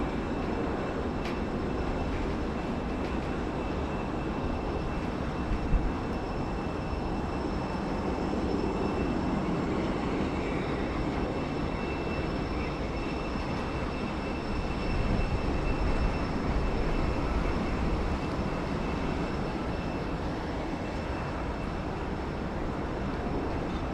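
A Virgin Australia Boeing 737-800 taking off from runway 34 right at Sydney Airport, a broad, steady jet roar heard from a distance, sustained throughout with a slight swell toward the middle.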